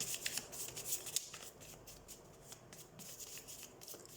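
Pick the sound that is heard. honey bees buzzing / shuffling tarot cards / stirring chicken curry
shuffling tarot cards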